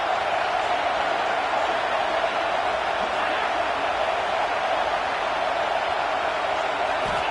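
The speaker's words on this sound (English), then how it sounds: "This crowd bringing the energy and noise early." Stadium crowd noise in a college football video game, a dense, continuous roar of many voices that holds at a steady level throughout, with no single voice standing out.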